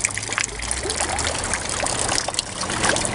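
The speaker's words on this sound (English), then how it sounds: "Drain out that water." Water draining out of a gem sieve in a creek, a steady close trickling and splashing that runs without pause over flowing stream noise.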